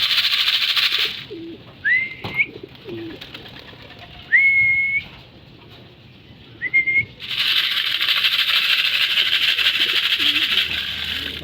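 Pigeons give a few short cooing calls against a steady hissing background, spaced a couple of seconds apart and fairly close.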